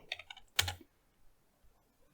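Brief bursts of typing on a computer keyboard, a few close, crisp key clicks with one louder cluster, then near silence.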